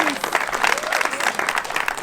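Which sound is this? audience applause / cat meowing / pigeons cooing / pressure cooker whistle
audience applause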